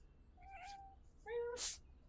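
A pet cat meows twice, the first call a drawn-out mid-pitched meow and the second a louder, brighter one ending in a breathy edge, close by in a quiet room.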